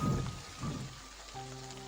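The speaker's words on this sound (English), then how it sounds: "Grumbling dreadfully, Henry set off into the rainy evening." Rain falls on a rainy evening as a faint, soft patter under a low background tone, with a few dull thumps early on.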